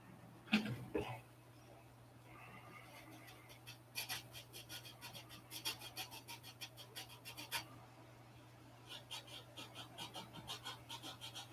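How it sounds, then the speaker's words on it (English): An engine cowl part for a glow-plug model engine is hand-sanded round, producing quick rhythmic scratchy strokes up close in two runs, separated by a short pause. "I'll get something that's the right size and sand it perfectly round"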